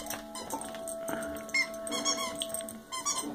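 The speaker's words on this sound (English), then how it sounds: "The infamous squeaker." A dog's new squeaky toy, a Christmas present, squeaks in quick sharp bursts indoors as the dog tears into it, over a faint steady background hum.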